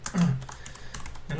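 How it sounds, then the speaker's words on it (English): Keys clatter on a computer keyboard during a cybersecurity lab session, a quick run of irregular soft clicks at moderate volume, with no talking over them. "Looks like we're going to do a lot of typing."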